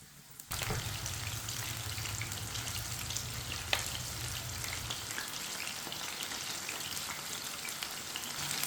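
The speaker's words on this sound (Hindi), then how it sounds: "इसी तरह एक एक पीस लेंगे चिकन का, डालते जाएंगे।" Chicken pieces drop into hot oil over a medium flame and set off a sudden loud sizzle, which then crackles on steadily and up close with small pops.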